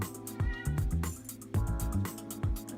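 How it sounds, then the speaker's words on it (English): A house cat meows over and over at close range, a run of loud, drawn-out cries with short pauses between them, heard indoors with no talking. "That's my cat meowing at me."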